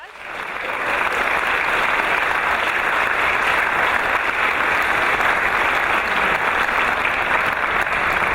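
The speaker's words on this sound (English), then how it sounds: "Let's give them a round of applause." Loud, sustained applause from a large audience at a children's choir concert that swells in within the first second and continues evenly to the end.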